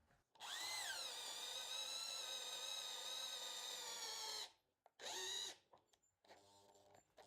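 A Denzel RH 400 electric hammer drill in drilling mode whirs up to a steady high-pitched whine for about four seconds, stops, then runs again in a short burst.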